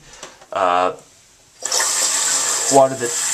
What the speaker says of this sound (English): only a little bit of water comes out when you flush it